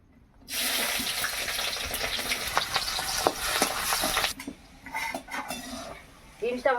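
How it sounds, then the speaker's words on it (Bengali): Green beans frying in hot oil in a pan, a loud, dense sizzle that surges in and holds for several seconds, then breaks into softer crackles and utensil clinks. "বিনসটাকে ভেজে নেব।"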